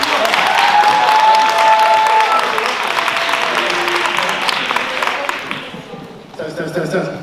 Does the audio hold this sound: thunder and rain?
no